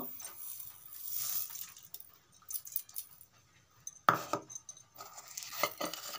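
A spoon clinks and scrapes around a pot while sugar and jaggery are stirred into hot boiled amla, intermittent metallic taps and jangles with one sharp knock midway and quiet gaps between.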